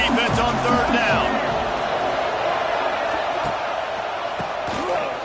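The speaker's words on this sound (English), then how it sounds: "Decibels rising as the crowd gets behind this defense on third down." Stadium crowd at an American football game roars steadily on third down, a dense wall of cheering that holds loud throughout, with a commentator talking over it.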